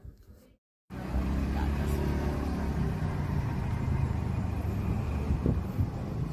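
A car drives through Gangtok back toward the hotel; after a brief silent gap, a steady low road and engine rumble fills the cabin and continues without letup.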